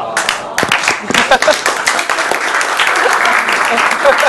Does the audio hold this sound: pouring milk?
no